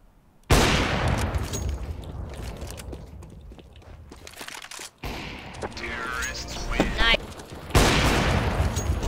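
Rapid gunfire from the video game CS:GO plays loud and close in bursts, with a short lull midway. Voices talk over parts of it.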